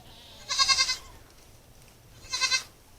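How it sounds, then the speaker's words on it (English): A goat gives two loud, close, quavering bleats about two seconds apart while being loaded into a small vehicle, with quiet background between calls. "So now I'm going to show you guys how we can load a goat by yourself"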